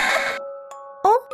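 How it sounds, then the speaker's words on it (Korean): A small bell jingles in short bright rings, clear and close, in a dramatized horror story scene, with a voice and other effects between the rings. "방울종이 울리면 칸칸다라가 그 소리를 듣고 모습을 드러낼 것이다"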